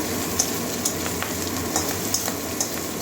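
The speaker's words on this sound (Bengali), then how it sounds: "মাছের মাথাটা মুচমুচে করে ভাজবো" Prawn heads frying crisp in oil make a steady, dense sizzle with small pops and light stirring scrapes throughout. No one speaks.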